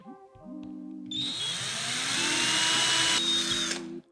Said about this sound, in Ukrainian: беремо шуруповерт з дуже тоненьким свердлом. Проробляємо кілька отворів